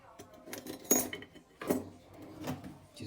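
A metal spoon scoops tomato puree for a homemade meat pizza, giving several close clinks and scrapes against a jar or bowl in an irregular rhythm, fairly quiet with no talk.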